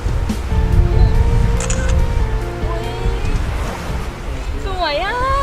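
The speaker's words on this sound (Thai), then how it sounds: "เดี๋ยวถ่ายรูปก่อน" A camera shutter clicks while taking a photo on a beach, with steady surf and wind behind it and voices speaking nearby.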